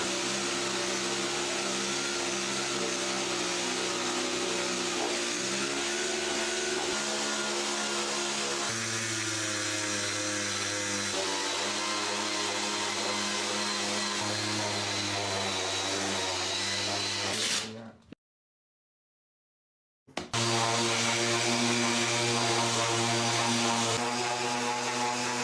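An orbital sander with a 2.8 mm orbit smooths rough old pallet wood, giving a loud, continuous whine that shifts in pitch under load, cuts off completely for about two seconds, then starts again.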